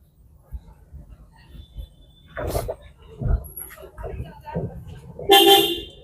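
Car horn honks during a driving lesson, with one short toot near the middle and a louder, longer blast toward the end, close by amid traffic noise and occasional talk.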